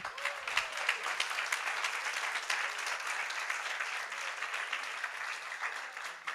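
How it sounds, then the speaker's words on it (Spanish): An audience at a Catholic talk on the Miraculous Medal applauds in honour of the Virgin Mary, a sustained, even patter of many hands, somewhat distant and soft, with no voices heard. "Un aplauso a la Virgen."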